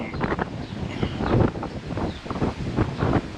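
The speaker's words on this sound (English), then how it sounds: "It's kind of windy today." Gusty wind buffets the microphone in uneven rumbling surges, with no other clear sounds.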